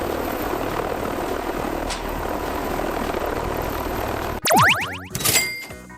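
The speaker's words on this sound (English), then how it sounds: "This is an ambulance helicopter." A steady ambulance helicopter rotor drone and engine roar runs for several seconds, then cuts to a brief burst of sweeping, warbling tones and rumble.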